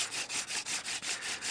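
Wooden hand drill spindle grinding into a fireboard for friction fire, a rhythmic rasping in quick even strokes about five per second, close and steady with no talking.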